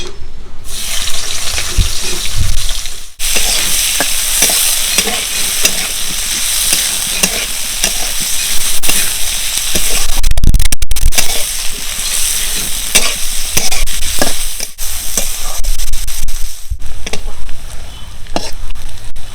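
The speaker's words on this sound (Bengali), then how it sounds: "আমি পেঁয়াজগুলো হালকা করে ভেজে নেব।" Onions lightly frying in hot oil in a wok while cooking rui fish dopeyaja: a steady, loud, dense sizzle with repeated spatula stirring and scraping, a few short breaks, and no talking.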